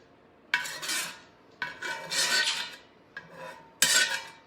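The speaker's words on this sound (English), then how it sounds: "So we're taking everything out of the skillet." Metal utensil scraping food out of a skillet while making knishes: four rasping, gritty scrapes, each a sharp onset followed by a sustained rub, close and moderately loud with short pauses between.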